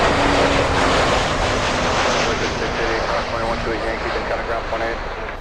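Boeing 777 and 767 jets at Miami International Airport: a loud, continuous rushing jet roar that slowly eases toward the end, with voices murmuring underneath.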